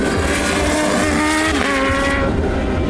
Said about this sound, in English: A 1000cc supercharged inline 4 with 200 PS and 101 foot-pounds of torque